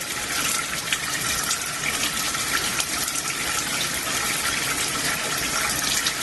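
Oil drains through an opened ball valve into a tank, a steady rushing, gushing flow of liquid that stays even throughout.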